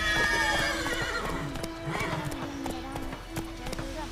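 Roach, a horse in The Witcher video game, clip-clops at a steady walk with regular hoofbeats, accompanied by brief whinnying and a faint game voice underneath.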